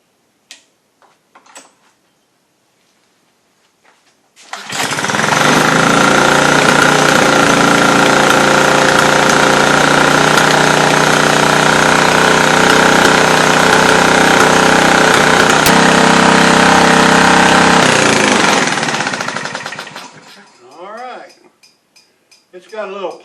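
A repaired wood splitter's small engine starts after a few faint clicks and runs loud and close for about fifteen seconds, rattling with some popping because the air filter is off, then stops.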